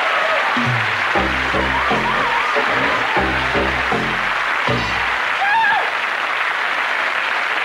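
Studio audience at a live late-night television comedy show clapping as it returns from the ad break, sustained applause under a bright musical sting and a voice cutting in.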